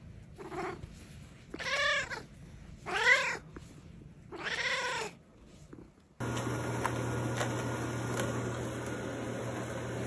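A cat gives four loud, drawn-out meows, one after another, close to the listener. A steady mechanical hum follows.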